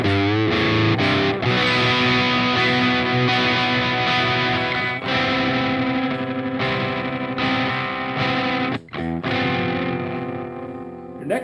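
Distorted electric guitar chords from a song, played with open strings ringing below, come as loud, thick strummed chords with short breaks between changes, heavy overdriven tone throughout.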